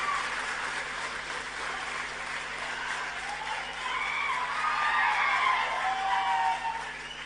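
A large audience at a public event honoring Pawan Kalyan claps in a steady, dense roar that swells louder midway, with only faint voices underneath.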